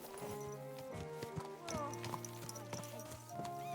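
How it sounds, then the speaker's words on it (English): Horse hooves clip-clopping in the medieval game Kingdom Come: Deliverance II, a steady run of hoofbeats over music and ambient noise, with a short whinny-like sound partway through. "There's my horse."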